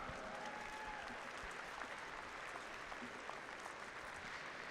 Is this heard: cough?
no